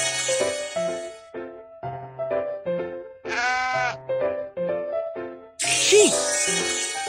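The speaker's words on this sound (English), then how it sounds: "Sheep." A sheep bleats in a children's cartoon learning game, with one clear wavering bleat in the middle among short tonal notes and a bright chime near the end.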